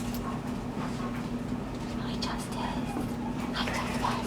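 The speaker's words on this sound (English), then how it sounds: "Oh, there's a puppy crying out there." A puppy cries outdoors at some distance, with faint, thin whimpering and yipping calls scattered through a steady background hum, the cries soft and intermittent rather than loud.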